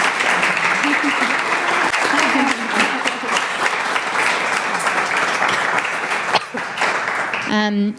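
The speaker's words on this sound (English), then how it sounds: "can we give everybody a nice big round of applause, please?" A conference audience at a diversity and inclusion event gives a big round of applause, dense steady clapping that runs for several seconds, with a voice heard faintly beneath it and the clapping tapering off at the end.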